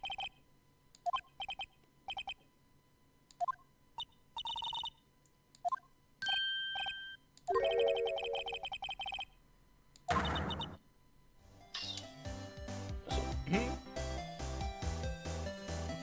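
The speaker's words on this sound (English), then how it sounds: "Phone go ding ding." Phone ringing in the video game Phoenix Wright: Ace Attorney: a series of short electronic ring tones and chimes repeating in bursts, followed by brighter synthetic tones, with no talk over them.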